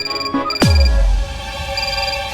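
A phone rings loudly and close, a bright repeating electronic tone with a sharp low thump near the start, in an indoor police-station scene.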